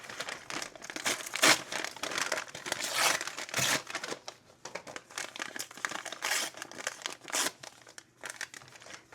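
Paper and card being handled and crinkled close by, a steady run of crisp rustling and crumpling bursts with a few sharper tearing-like crackles, no talking.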